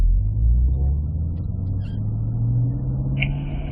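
A Cadillac CT5-V Blackwing with a six-speed manual runs on a wet track, giving a deep, steady engine rumble heard from close by with little variation.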